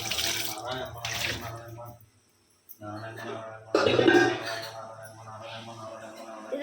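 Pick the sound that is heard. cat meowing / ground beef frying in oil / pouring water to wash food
pouring water to wash food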